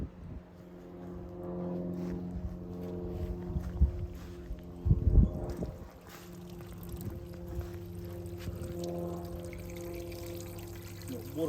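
Water runs and gurgles into a leaking toilet cistern as it fills, a steady low trickle with bursts of splashing and a hollow hum.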